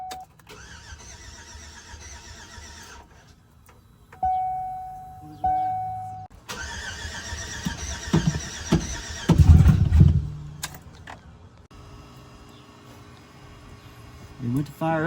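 A car engine cranks over on its first start-up attempt with a leaky fuel injector, the starter whirring in bursts while it tries to fire, a louder rough stretch in the middle and people talking throughout.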